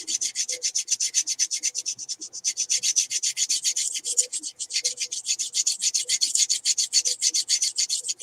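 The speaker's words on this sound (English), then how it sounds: "kind of gently going over this with just a generic Scotch-Brite pad, and just rubbing off some of the gold paint" A generic Scotch-Brite pad rubs gold paint off a painted Sorceress Spellcaster miniature in quick, even back-and-forth strokes, a close rhythmic scratchy swish repeating steadily.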